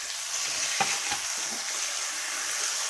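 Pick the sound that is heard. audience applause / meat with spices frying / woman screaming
meat with spices frying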